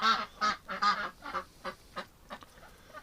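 Domestic ducks, one hen with feathers missing from her back and head, give a rapid series of honking quacks, loud and close at first, then thinning out into quieter, spaced calls.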